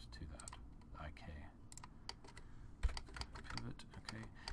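Computer keyboard keys pressed during a 3D arm rig setup, a run of quick clicky taps with a sharper press near the end, close by over a low background hum.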